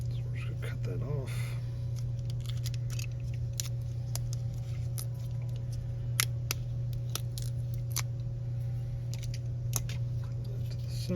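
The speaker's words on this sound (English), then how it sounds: "This is just electrical tape, so we're just going to cut that off." Scissors snip through electrical tape while working on a Rail King UP gas turbine locomotive set. Repeated sharp, close cuts sit over a steady hum, with soft whispered speech underneath.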